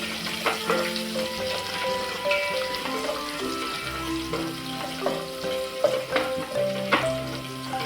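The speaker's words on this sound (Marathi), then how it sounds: "त्यानंतर इथे मी आलं आली लसूण असं फेसून घेतलेलं आहे ते आपण टाकणार आहोत" Ginger-garlic paste frying in hot oil for a Maharashtrian village-style chicken rassa, a continuous close sizzle with soft stirring and scraping and a few sharper bursts, no voices.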